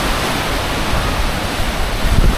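Surf churning sand at Horseshoe Bay beach makes a steady, loud broadband wash with a low rumble that swells near the end, and no voices are heard.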